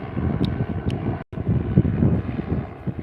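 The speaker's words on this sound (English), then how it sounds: "Helicopter." Helicopter passing overhead, a steady broadband rotor-and-engine roar that stays loud and fairly even throughout, with one brief dropout midway.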